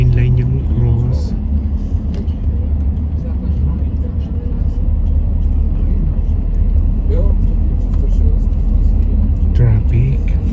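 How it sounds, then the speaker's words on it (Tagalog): Road traffic in Paris rumbles continuously, a dense low drone of cars and heavier vehicles passing nearby, with faint voices and scattered small clicks and noises over the top. "Traffic."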